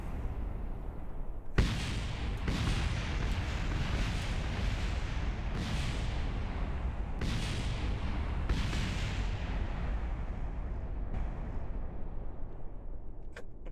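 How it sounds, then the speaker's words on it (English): Repeated heavy booms of a crashing spacecraft in Kerbal Space Program, several sharp explosive onsets with rumbling tails spaced every second or two, loud and dense with no talk. "Big booms for shipwreck."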